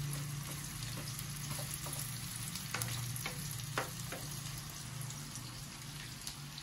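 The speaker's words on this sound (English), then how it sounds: "we have to cook the onions till they are brownish in color" Onions fry in a pan with a steady, close, bubbling sizzle and scattered pops and crackles, a continuous hiss with no voices over it.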